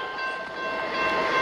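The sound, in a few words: Union Pacific intermodal freight train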